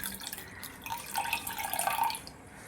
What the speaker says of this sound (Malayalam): ഇനി നമുക്ക് 1-ാം പാൽ ചേർക്കാം.